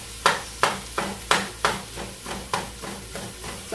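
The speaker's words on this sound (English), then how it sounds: "cabbage is cooking down" Cabbage cooking down in a pan, a series of sharp regular scrapes or taps about every third of a second over a soft sizzle, close and moderately loud with no voices.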